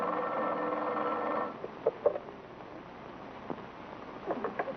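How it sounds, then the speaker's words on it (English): A telephone rings for a moment and then stops, followed by a few faint clicks and handling noises. "It is ringing now."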